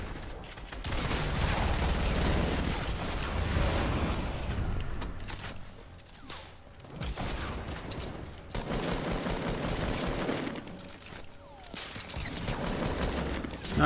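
Gunfire and heavy weapon blasts in a Fortnite match, a dense rattling barrage of shots and booms that holds steady for most of the time, pausing briefly twice before resuming loud and close.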